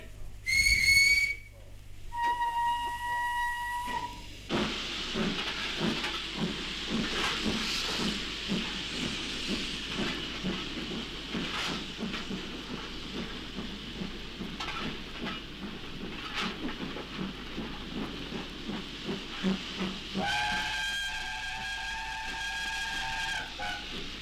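A steam locomotive in a 1960 audio drama gives short whistle blasts, then chuffs and hisses steadily for about fifteen seconds before a longer, louder two-tone whistle near the end.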